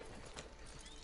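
A horse in the video game Red Dead Redemption 2 gives a brief snort and hoof clatter, soft and close over a dense game-audio backdrop.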